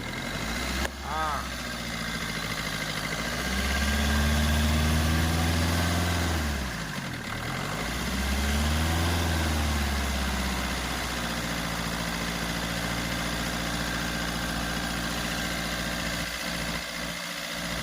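A 2018 Maruti Suzuki Brezza ZDi+ diesel engine idles roughly, then revs up twice, the low rumble swelling and falling back each time before settling into a steady idle.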